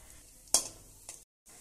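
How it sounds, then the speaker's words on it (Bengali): Cashews and raisins fry in a pan while being stirred, giving soft sizzling with a sharp scrape or clatter of the spoon, a brief quieter stir, then a moment of near silence before the sizzle returns. "এক মিনিটের জন্যে নেড়ে চেড়ে নিলেই কাজু ও কিশমিশগুলো ভাজা হয়ে যায়"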